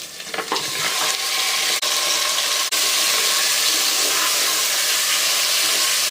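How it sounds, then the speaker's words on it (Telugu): Mutton frying with onion and ginger garlic paste gives a loud, steady sizzle that runs almost unbroken throughout, with a few faint scrapes near the start and no talking. "ఈ మటన్ అంతా ఒక రెండు నిమిషాల వరకు వేయించుకోవాలి"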